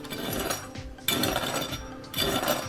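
Crispy roast pork skin crackles: close, continuous crackling and crunching with brittle snaps, loud and textured, in a few bursts, no talking.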